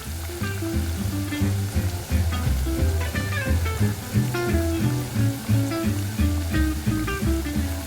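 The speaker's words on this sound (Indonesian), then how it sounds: "Digoreng sampai warnanya kecoklatan." Steady crackling sizzle of apple slices frying in hot oil, continuous and close, with small pops throughout and no voices.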